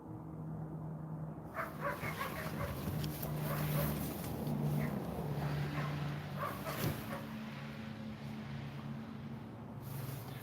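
Dogs bark and yip intermittently at a distance in the snow over a steady background hum, with short whimpering sounds between barks.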